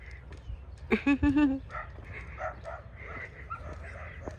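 A dog on a morning walk outdoors gives a short burst of whimpering yips, then fades into outdoor background murmur with faint Tagalog voices.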